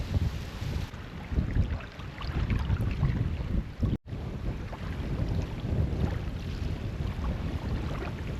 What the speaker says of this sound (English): It's in the wind of about 20 mile an hour just now